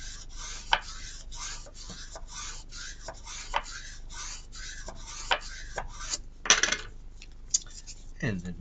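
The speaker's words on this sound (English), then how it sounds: "And then we do the ironing." A hand rubbing paper flat with a smoothing tool during papercraft card-making, a rapid series of dry scraping strokes with light clicks and taps, close and quiet with no talking.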